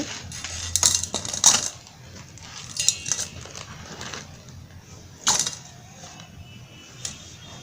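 Soap powder being stirred into a solution for cleaning gold jewellery, heard as several sharp metallic clinks and clatters of a spoon against a container, with quieter scraping in between.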